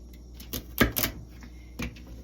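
A knife slices food into strips on a cutting board, giving three or four separate, fairly close, crisp cuts spaced irregularly.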